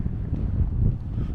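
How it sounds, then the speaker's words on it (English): Wind buffets the microphone on a hillside trail at Hanging Rock State Park in late March, a low, steady rumbling gust lasting a second or so. "Hopefully the wind's not too bad. It's a little windy here today."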